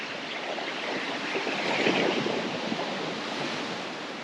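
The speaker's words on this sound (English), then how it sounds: "there's a bit of surf" Small surf washing in Sydney Harbour, a steady broadband wash of breaking water that swells slightly midway, heard from nearby with some wind noise.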